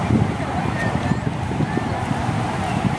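Steady, close wind noise buffets the microphone along the Manila Baywalk seafront, a continuous low rumble with no pauses.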